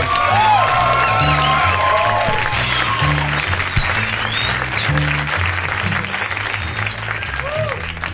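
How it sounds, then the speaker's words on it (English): A stand-up comedy audience breaks into loud clapping with scattered whoops and cheers, with a low hum underneath. The applause stays strong and tapers slightly toward the end. "How about a round of applause for Chuck?"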